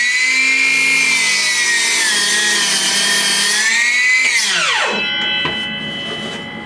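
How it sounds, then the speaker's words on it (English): A Metabo cordless saw running on a Makita battery through an adapter cuts steadily for about four seconds with a loud whine, then the motor winds down and stops. The cut and spin-down happen with no one speaking. "now we're going to make a cut using a Makita battery in a Metabo saw"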